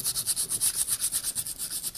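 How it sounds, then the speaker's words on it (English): Sandpaper rubbing back and forth along a wooden axe handle after hanging, a close, steady rhythmic scraping in regular strokes of about four per second, with no voices. "I kind of like to run a little sandpaper over it"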